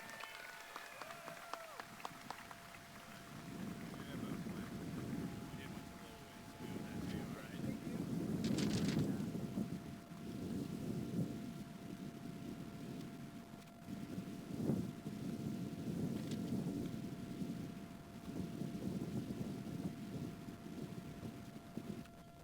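Wind buffets an outdoor graduation ceremony, rumbling and gusting across the microphone in repeated swells, with faint distant sounds behind it.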